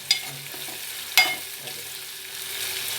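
Dried prawns fry in a pan with a soft, steady sizzle. Two sharp clacks from stirring break through, one right at the start and a louder one about a second later.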